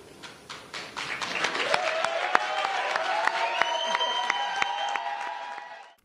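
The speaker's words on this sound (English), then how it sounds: "that applause went on for a bit longer, of course" Audience applause after a union president's speech at an actors' strike rally, crisp individual claps building into sustained clapping with cheers and whistles over it, then tapering off.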